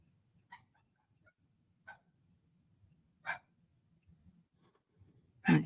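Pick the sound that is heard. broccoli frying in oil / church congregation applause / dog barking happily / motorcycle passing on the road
dog barking happily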